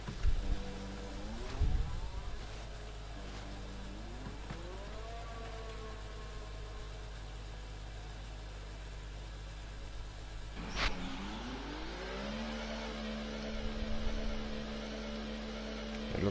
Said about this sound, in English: so let's get the car out onto the track